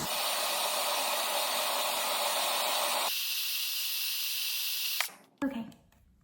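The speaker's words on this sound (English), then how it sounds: "with the hairdryer pointing down, you're going to brush your hair from one side and then to the other side" A hair dryer pointed downward blows a loud, steady airy hiss while hair is brushed, its pitch dropping partway as the setting changes, then cutting off into brief handling noises.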